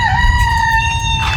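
A chicken gives one sustained, tonal call, loud and close, over a low rumble of background noise.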